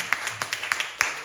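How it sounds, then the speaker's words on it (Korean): A church congregation at a Thursday worship service claps in a quick, uneven run of sharp hand claps, close and moderately loud, lasting about a second. "그래 박수 쳐"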